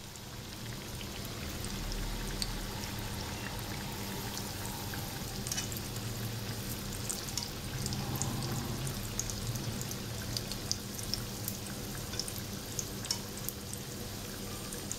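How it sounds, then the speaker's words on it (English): Sweet unni appams fry in oil over low to medium heat, a soft continuous bubbling sizzle with faint scattered crackles that holds steady throughout. "On low to medium heat, let's fry the appams."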